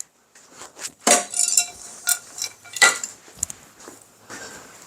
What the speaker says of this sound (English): Let's put them in a bowl.